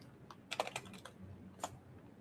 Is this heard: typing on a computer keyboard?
yes